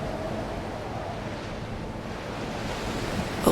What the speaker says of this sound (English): Each monstrous wave hurls back against the black stone with the force of something ancient and angry.